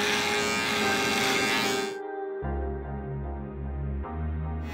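Electric hair clippers buzz loudly and steadily while cutting hair for a skin fade, the tone dropping and shifting partway through as the machine is maneuvered around hair growing in different directions.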